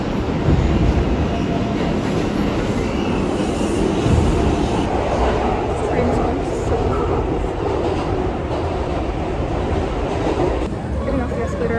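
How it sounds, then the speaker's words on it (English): A New York City subway train roars steadily and loudly nearby, rumbling and rattling on the tracks throughout, with faint voices under the din. "I literally thought that train was gonna like blast off."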